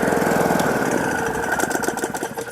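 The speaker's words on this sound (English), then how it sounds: "that's why it slowly petered and almost stalled the engine" A small petrol engine on a Trafalgar paddock vacuum, a wheelbarrow-style poo picker, runs loudly nearby with a rough idle that grows uneven and sputters toward the end as it nearly stalls.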